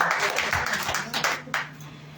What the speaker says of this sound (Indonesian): Beri tepuk tangan dong pada Tuhan Yesus